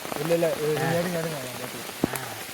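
Heavy rain pours in a forest where tigers live, a steady hiss in the background while someone talks over it close by, with a single sharp knock near the end.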